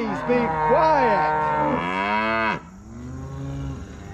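Several cattle on a farm low loudly one after another in long, drawn-out moos with rising and falling pitch, close by, then quieter ambient sound after a sharp drop.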